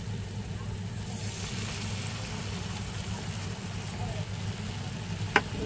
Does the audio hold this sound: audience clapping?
no